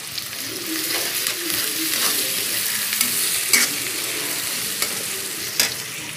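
Chopped onions and potatoes frying in a pan with salt: a loud, continuous sizzle with the rhythmic scrape of stirring and occasional sharper taps of the spoon against the pan.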